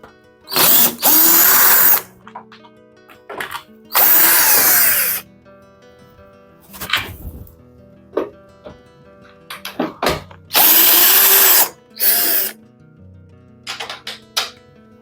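A power drill backs screws out of the panel of a Samsung heat pump dryer, sounding as loud bursts of high whirring, a few longer and several short, with near-silent pauses between them.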